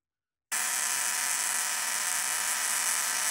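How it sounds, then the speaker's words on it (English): Steady, loud high-voltage corona buzzing and hiss from a ZVS-driven Tesla coil with dual MOSFETs on a variac, starting abruptly after a brief silence and holding constant throughout. "A lot of Corona coming off of that right now."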